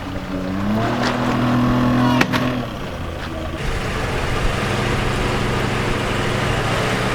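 A motorboat engine drones loudly and steadily up close, its pitch rising briefly, then settling into a constant rumble with water noise.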